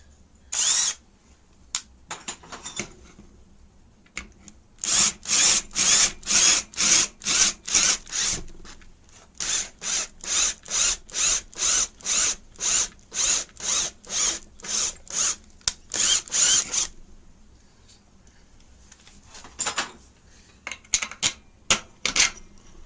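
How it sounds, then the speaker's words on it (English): A drill bores holes through bracket material for a GoPro mount in a long run of loud, evenly repeated bursts, with short pauses between groups and a few scattered final bursts. "Now it's just a case of drilling the holes through the material."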